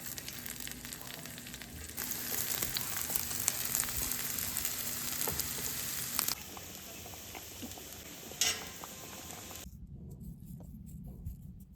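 Arrowroot fries in a pan with a dense, steady sizzle and crackle, scattered sharper pops, cutting off abruptly near the end to quieter background.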